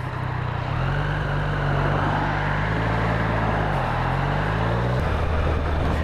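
Airbox and induction noise from a 2017 Triumph Street Triple 765 RS motorcycle: a steady, loud engine drone with the pitch rising and falling as the throttle changes, heard up close with no talking.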